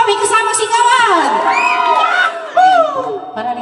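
A live audience shouts and cheers loudly and continuously, excited voices and whoops overlapping in a dense crowd roar with a brief surge near the end.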